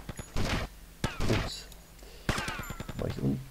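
Gunfire in GTA Vice City: a few sharp, loud shots in separate short bursts, broken by quieter game sounds, with no speech in between.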